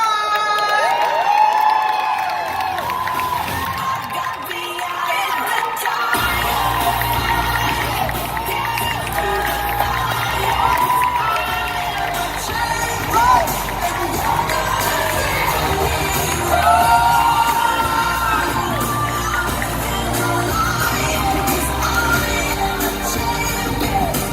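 A large conference crowd cheers, whoops and claps loudly and continuously, with scattered shouts rising above the dense, sustained applause.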